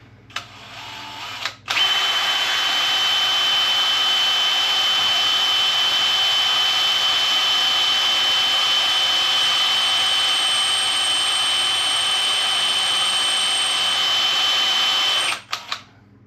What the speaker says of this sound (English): Either my bit's dull or that's some hard metal.